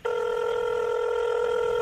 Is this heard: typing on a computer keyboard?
no